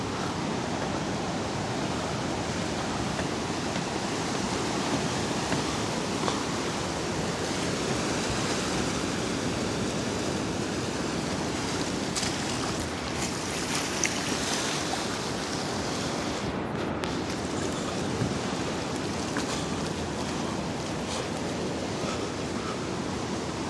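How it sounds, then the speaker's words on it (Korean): Sea waves surge and crash continuously at Homigot on the Pohang coast, a loud, broad roar of surf mixed with wind that never lets up. "와 파도 치는 거 봐."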